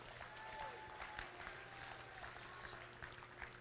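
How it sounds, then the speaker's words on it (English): Faint applause patters from a distant crowd at a junior breeding gilt livestock show, a soft scattered clapping under background murmur. "Let's give these young exhibitors another round of applause"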